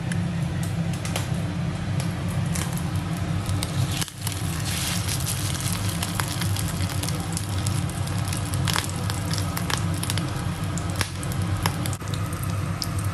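Fish roe fritters fry in hot oil, a dense, steady sizzle with scattered crackles and pops running throughout at moderate loudness, close by and without speech.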